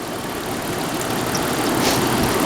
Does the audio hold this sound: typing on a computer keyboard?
no